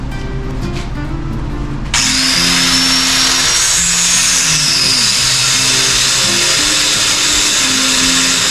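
Power tool grinding and cutting, a steady loud whine that starts abruptly about two seconds in after a quieter lead-in and then runs continuously with a wavering high pitch, alone with no voices.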